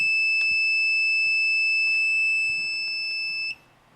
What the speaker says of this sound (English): When I turn it on, the buzzer will turn on.